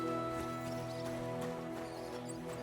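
Horse hooves clip-clop at a steady walking rhythm in the video game Kingdom Come Deliverance 2, fairly quiet beneath continuous game music.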